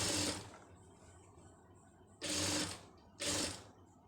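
A sewing machine stitching a designer blouse runs in three short bursts, each about half a second long, with quiet pauses between them. The mechanical whirring is close and clear, and no one speaks.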